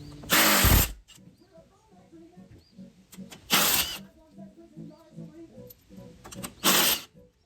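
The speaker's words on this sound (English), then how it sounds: "so we got the stock bolts out" A ratchet backs out the stock bolts on a 2024 Can-Am Maverick R during a steering damper install, with three loud, close bursts of rapid clicking spaced a few seconds apart and faint talk and shuffling in between.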